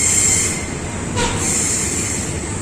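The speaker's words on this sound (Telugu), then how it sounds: "ఇది ర్యాపిడ్ ట్రైన్" A rapid train passes through a wide three-platform railway station in Thailand, giving a loud, steady rumble with high wheel squeal throughout and a brief swell near the middle, with no talk.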